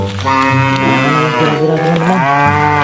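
A single long, loud cow moo, close by, its low drawn-out tone wavering in pitch for nearly three seconds.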